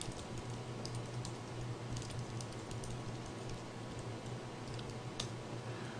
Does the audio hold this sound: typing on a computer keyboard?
yes